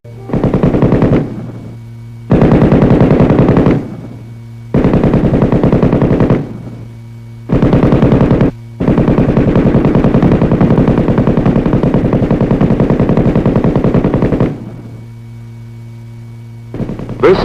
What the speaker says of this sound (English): This is the machine gun